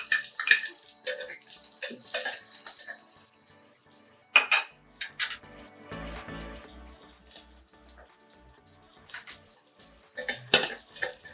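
Half a cup of onion goes into a mustard-seed and curry-leaf tempering for a green gram palya, frying softly beneath sharp clinks and scrapes of a spoon stirring in the pan, with no voices.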